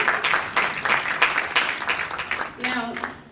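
A crowd applauds a performer at a Mamapalooza comedy event, a steady wash of clapping from many hands over roughly three seconds, easing off near the end as a faint voice begins to speak.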